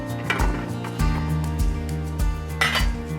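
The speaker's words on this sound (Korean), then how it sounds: "먼저 준비한 떡을 냄비에 붓겠습니다" Rice cakes tumble into a metal pot for tteokbokki with a series of clunks and clinks, several uneven impacts in quick succession, close by.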